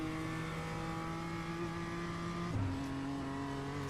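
BMW M2 engine in the iRacing sim, a steady loud droning note holding high revs, then a quick gear change drops the pitch before it climbs again, heard alone without talk.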